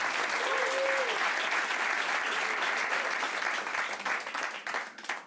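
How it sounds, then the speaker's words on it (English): Loud, sustained applause from a magic show audience for two volunteers, thick and even before tapering off near the end, with a short voice heard early on. "give both of them a big round of applause"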